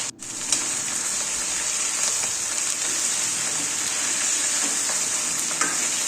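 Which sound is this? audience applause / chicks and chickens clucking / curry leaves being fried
curry leaves being fried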